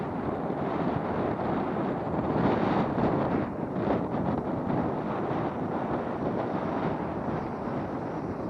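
Wind buffets the microphone at Huffman Dam in Dayton, Ohio, a constant broadband roar that holds steady for the whole stretch with only slight swells.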